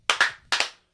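Close, sharp hand claps, crisp and dry, falling in two quick pairs separated by a short pause.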